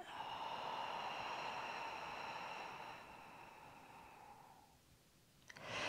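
Steady breathing during a Pilates exercise, a long, airy exhale through the mouth holding for several seconds before fading, then a quick fresh inhale starting at the end, close and fairly loud with no talk.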